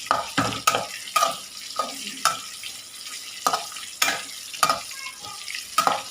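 Bitter gourd pieces fry and sizzle in a pan over high heat while a spoon stirs them, with repeated sharp scraping strokes every half second or so over a steady crackle, close up and with no talking.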